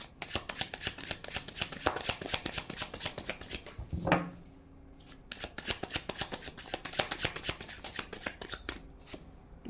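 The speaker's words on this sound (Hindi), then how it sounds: "आप लोग स्किप कर सकते हैं अगर आपको शफलिंग्स नहीं देखना है" Tarot cards being shuffled close up, a long run of rapid flicking riffles with a brief pause and a bridging whir in the middle, then more quick shuffling.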